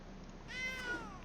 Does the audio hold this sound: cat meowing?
yes